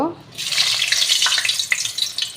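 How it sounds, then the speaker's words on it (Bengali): Six pieces of small potato frying in oil in a large kadai (wok), a close, loud, steady sizzle with crackling and no voices. "দেখো, প্রথমে আমি আলুগুলোকে ভেজে নিচ্ছি।"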